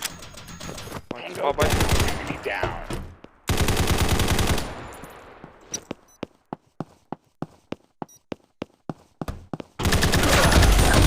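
Automatic fire in the mobile shooter Combat Master Mobile comes in loud sustained bursts, then gives way to a string of evenly spaced single shots before another long burst opens up at the close.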